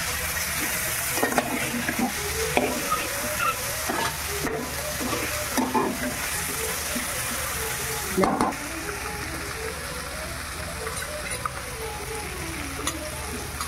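Ginger-garlic paste and green chilies sizzle in a pan with cooked onions and capsicum for soya chili, steady frying hiss with repeated scraping stirs of a spoon throughout.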